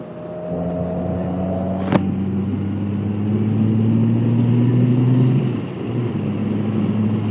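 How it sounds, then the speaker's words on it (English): A 2018 Goldwing motorcycle engine hums low and steady while riding, its pitch rising gradually before easing off, with wind rush around it and a single sharp click partway through. "This bike is also very, very quiet, but you can still hear the engine."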